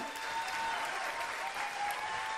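A studio audience on a Georgian TV song contest applauds, a dense, steady wash of clapping from many hands that carries on throughout without pause.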